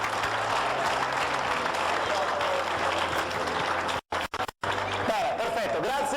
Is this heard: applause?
yes